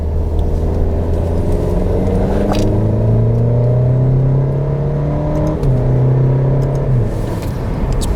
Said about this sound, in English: Put it in dynamic mode, and we'll downshift, and immediate downshifts.